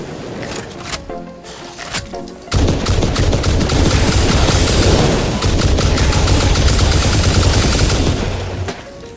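Sustained automatic gunfire from Satisfactory rattles loudly and almost without pause after a few opening bursts, a dense close-up barrage.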